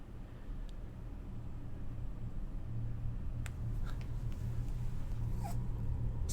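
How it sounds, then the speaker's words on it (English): A creature in the survival game The Planet Crafter gives faint, thin howling and whimpering cries over a low background hum, with a few short rising calls scattered through the stretch. "Why are you howling?"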